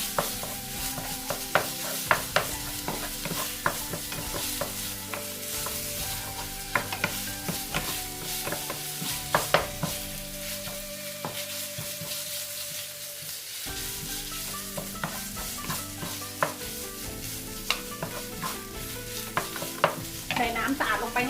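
Pork stir-frying in a pan for a purple eggplant dish, with a steady sizzle and frequent scraping stirs and clinks that run close up and fairly loud for the whole stretch, with no talking.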